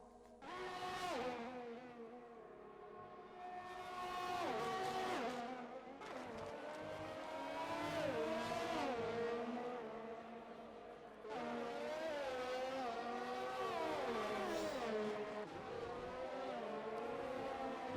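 Several open-wheel racing-game cars from a virtual Canada Grand Prix race drag down the straight toward turn 1, engines rising through repeated upshifts in loud, overlapping wails.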